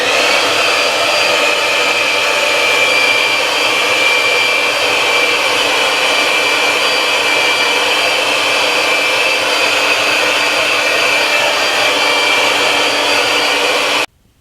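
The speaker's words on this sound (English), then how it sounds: "Then I'm gonna hit it with the hairdryer." A hair dryer blows continuously on a man's medium-length hair, a loud, steady high-pitched whoosh that holds for about fourteen seconds before cutting off abruptly.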